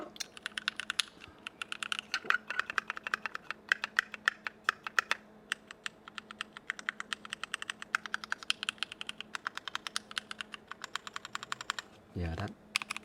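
Rapid typing on a Keychron Q4 wired custom mechanical keyboard, a steady stream of crisp, close clicks and clacks, briefly broken near the end by a short muffled thump.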